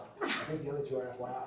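A single sharp sneeze bursts out early, nearby and fairly loud, followed by people talking.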